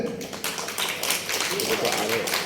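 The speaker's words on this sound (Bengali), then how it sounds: "জোরে একটা হাততালি হয়ে যায়।" Audience at a national poets' council anniversary celebration breaking into applause, a dense stretch of clapping that keeps going throughout, with voices mixed in underneath.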